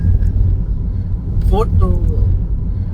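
A car engine idles with a low, steady rumble that stays close and constant throughout, while a voice speaks briefly over it midway.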